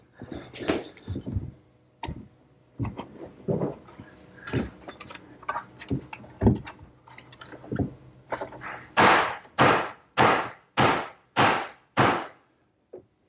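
A wooden mallet tapping a table stretcher into its mortises: a string of irregular lighter knocks, then about seven hard, evenly spaced blows, close and sharp with no talk.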